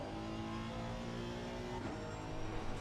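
Porsche engine accelerating, a steady mid-pitched drone with rising harmonics that holds at close range throughout and swells slightly near the end.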